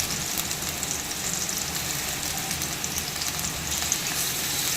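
Onions sautéing with fennel seeds in hot oil for a spicy quail gravy, a steady dense sizzle that holds evenly throughout with no talking.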